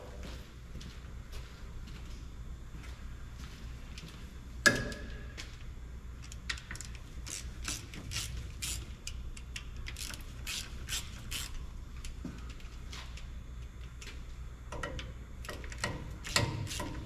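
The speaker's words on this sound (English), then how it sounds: "Might have to loosen up these bolts a little more." Faint, scattered wrench clicks and metallic ticks come from loosening bolts on a 1951 Chevy truck during clutch and rear main seal repair, with a sharp clank early on, all quiet against a low steady background hum.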